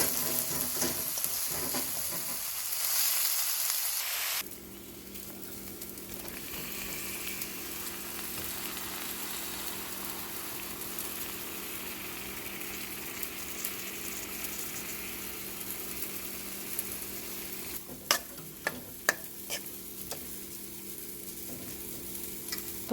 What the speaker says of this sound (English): garlic, ginger, and saute it for a few minutes